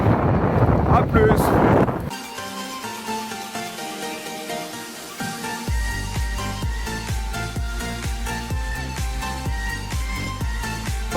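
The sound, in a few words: wind blowing on a cycling tour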